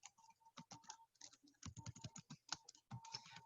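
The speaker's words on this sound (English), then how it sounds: "I don't think my typing fingers are working today" Fingers type on a computer keyboard in quick irregular bursts of close key clicks separated by brief pauses, with no talking.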